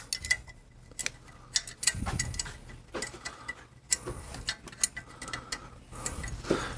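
A wrench removes three stainless steel 12-point nuts from a Harley Shovelhead exhaust pipe, giving irregular close metallic clicks and ratcheting ticks in short bursts, fairly quiet and without talk.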